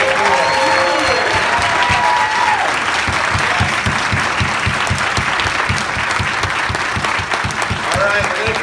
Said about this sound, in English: Can we get one more round of applause for our students?